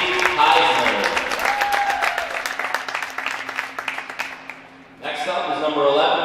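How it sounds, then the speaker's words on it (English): Audience applause at a college ice hockey ceremony with Adrian College hosting Michigan State, a steady wash of many hands clapping that fades briefly near the end before swelling again, with voices mixed into the crowd noise. "Let's give a round of applause for number 17, Kenzie Heisner."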